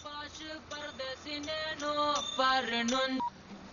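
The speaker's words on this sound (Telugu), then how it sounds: "ఫోన్ రింగ్ అవుతుంది కదా" A phone ringing in a Telugu movie scene with a melodic electronic ringtone, a run of bright tones that plays for a few seconds and then stops.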